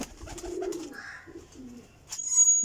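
Flying pigeons kept for sale coo softly at close range, giving a few low, throaty calls with brief pauses between them, followed by a faint high whistle.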